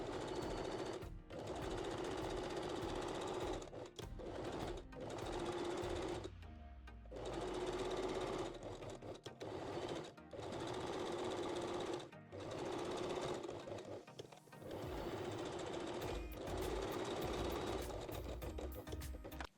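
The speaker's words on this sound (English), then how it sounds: "top stitch all 4 sides with a zigzag stitch." A sewing machine topstitches all four sides of a thong bikini bottom's binding with a zigzag stitch, running in steady loud bursts with short pauses between runs.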